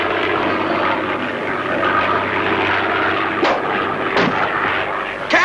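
Propeller plane engine droning steadily and loudly throughout, running low on fuel in a 1960 Tintin cartoon, with a couple of sharp bangs near the end.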